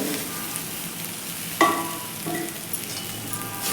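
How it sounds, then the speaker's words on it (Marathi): Roasted cluster beans being sautéed with spices in a hot pan, giving a steady close sizzle with a brief clatter of stirring midway and softer stirring scrapes after; no talk. "आता आपण ही गवार भाजून घेतलेली आहे ती घालून घ्यायची आहे"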